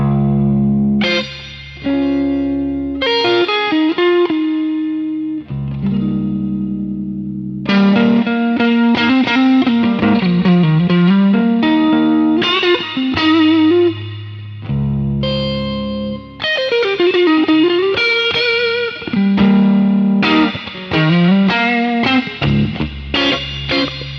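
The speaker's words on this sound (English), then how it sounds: "So here's the spring reverb from the Gibson amp." Electric guitar played through the spring reverb of a Gibson amp with a distorted, effects-laden tone, loud chords and melodic bends ringing with reverb tails throughout.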